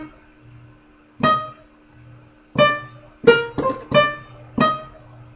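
The opening notes of a song played staccato on a pitched instrument: six short, clipped, ringing tones spaced unevenly, each cut off quickly, close and clear with no talking.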